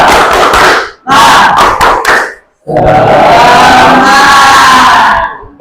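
Classroom group of students doing a rhythmic clapping chant, loud bursts of clapping and voices broken by short pauses, then a longer sustained stretch of combined chanting and claps.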